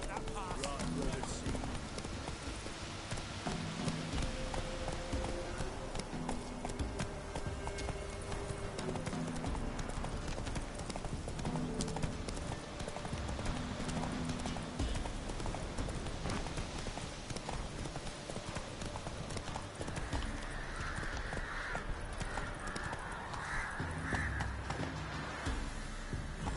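Roach, a horse in The Witcher 3, gallops with a continuous, even drumming of hooves that runs the whole stretch at moderate loudness, with voices and game music layered underneath.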